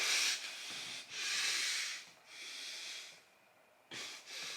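Heavy breathing after stopping a workout while standing still: loud, rushing breaths close to the mic, several long exhale-like bursts separated by short quiet gaps, with no talking.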